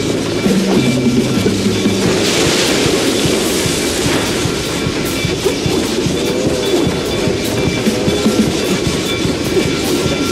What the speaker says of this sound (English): Just don't follow the damn train.